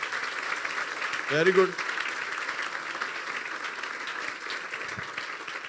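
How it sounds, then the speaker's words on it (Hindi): Congregation at a church sermon gives a soft, continuous round of applause, with a short spoken remark from the pastor rising briefly above the clapping early on. "अपने लिए तालियां बजा दें यार"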